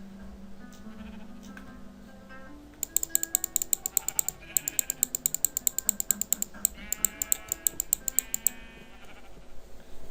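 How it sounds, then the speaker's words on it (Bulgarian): Sheep bleating in a survival video game, a wavering bleat at the start followed by bursts of rapid clicking taps like keyboard typing, with no talk. "Къде отиде тая овца?"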